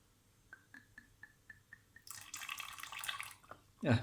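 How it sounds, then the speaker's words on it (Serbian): Vinegar poured into a milk dish, a short run of evenly spaced drips followed by a louder splashing pour lasting over a second, then a clink at the end. "onda može da sipa malo sirćeta"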